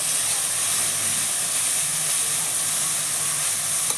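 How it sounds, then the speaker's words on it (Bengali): Onions fry in hot oil in a pan, giving a loud, continuous hiss that holds steady throughout without pauses. No one speaks. "দেখুন কিভাবে ভাজা হচ্ছে পেঁয়াজটা"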